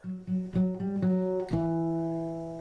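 A guitar plays a short melody of quick plucked notes, ending on a held chord that rings out and slowly fades.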